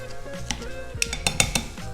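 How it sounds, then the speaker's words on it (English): Tongs clink and scrape against a mortar and pestle while a soft tomato is crushed, a series of sharp metallic taps and knocks, close and fairly loud, clustered in the second half with no talking. "I'm gonna pop it into my mortar and pestle, break it up with the tongs, and it just falls apart."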